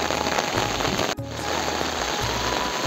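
Heavy rain pours steadily onto farm fields where rice seedlings are being transplanted, making a dense, continuous hiss with a brief dip partway through and no voices.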